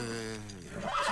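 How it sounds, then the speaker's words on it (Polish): A horse in the video game The Last of Us Remastered gives a close, loud whinny, its pitch falling and then rising into a snort at the end. "Zostań z koniem."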